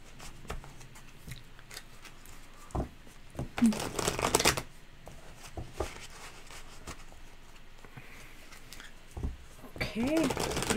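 A deck of tarot cards is shuffled in short riffling bursts, loudest around the middle and end, with quiet gaps between, while people talk softly in the background.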